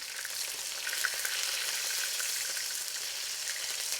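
Big shrimp sizzle steadily in a hot pan as one is turned over, a continuous bright frying hiss with small crackles, close and fairly quiet, no talking.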